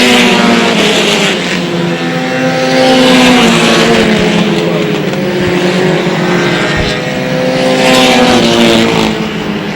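Race cars roar loudly and continuously around a track after the green flag, with engine drone rising and falling as cars pass, no talk over it.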